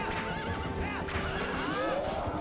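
A horse in the video game Twilight Princess whinnies repeatedly with rising and falling squeals over a busy in-game background of hooves and effects, fairly faint overall.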